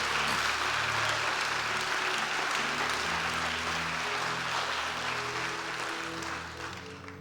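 Church congregation applauding during a Spanish-language worship service, loud sustained clapping under held organ or keyboard chords, fading slightly at the end.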